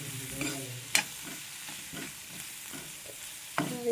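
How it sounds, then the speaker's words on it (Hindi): Vegetable curry being stirred and mixed in a pan, a spoon scraping and knocking against the metal in a few sharp strikes over a soft background sizzle, close and moderately loud. "अच्छी तरह मिक्स करके इसको खूब चलाएंगे"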